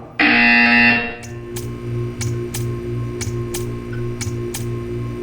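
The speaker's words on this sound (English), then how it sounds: "When you hear the buzzer, stare at the art." A loud harsh buzzer sounds in the Portal 2 video game for about a second. After it, a steady ticking repeats at regular intervals over a low mechanical hum.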